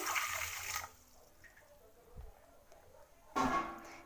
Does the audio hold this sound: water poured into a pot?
yes